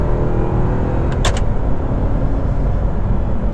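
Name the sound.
2009 Audi R8 4.2 manual accelerating, engine sound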